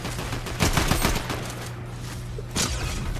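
Gunfire in a video game sounds as fast bursts of automatic shots at moderate loudness, with a cluster early on and another burst toward the end, and no talking.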